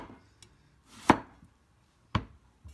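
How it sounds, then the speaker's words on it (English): Knife chopping through zucchini into half-centimetre slices on a cutting board, two sharp distinct cuts with a faint tap between, close and clear with no talking. "And then cut it into thin slice like this."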